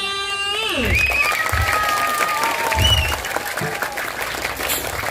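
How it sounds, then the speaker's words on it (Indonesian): An audience claps through a dance performance in a temple courtyard. The applause is loud and steady, with a voice and some tonal sounds at the start and crowd noise underneath. "rame sebetulnya nonton ini ada tepuk tangan Rai."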